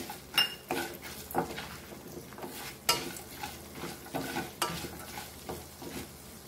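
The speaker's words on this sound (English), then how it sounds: "Now we'll add our coriander seeds." Coriander seeds hit hot oil and sizzle, while a metal spoon stirs and knocks against the pot in repeated scraping clinks. There is no speech.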